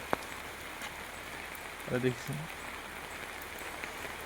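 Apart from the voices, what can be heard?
rain falling on a road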